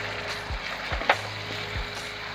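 Onions and tomatoes fry in ghee in a pan for a beef and lobia curry, a soft steady sizzle broken by a few low thumps of stirring.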